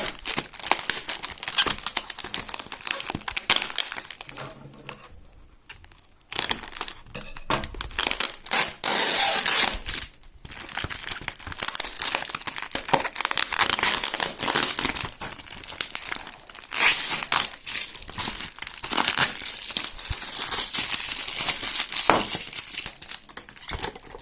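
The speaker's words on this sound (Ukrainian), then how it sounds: "Така класна китайська пупирка з китайським повітрям." Bubble wrap packaging crinkled and crushed by hand while a parcel from China holding a short ice-fishing spinning rod is unpacked, a loud, close, continuous crackling with brief pauses and no talking.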